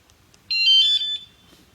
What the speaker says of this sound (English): Now the alarm is set.